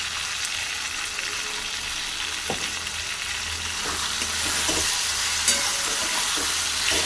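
Vegetables for chilli soybean are stir-fried in a hot pan, a loud steady sizzle with intermittent scraping of the stirring spoon, close up with no talk.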